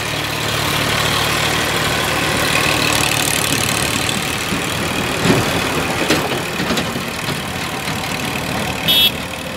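A Massey Ferguson 7250 DI 50 HP tractor engine runs steadily at a constant idle-like rumble, close and continuous with no talk, and a brief clatter near the end.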